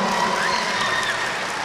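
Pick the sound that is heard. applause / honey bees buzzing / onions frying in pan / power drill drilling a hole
applause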